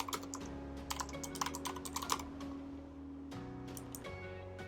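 Keys clatter on a computer keyboard as a short phrase is entered, quick taps in bursts with a brief pause near the middle, close and fairly quiet over a steady low hum.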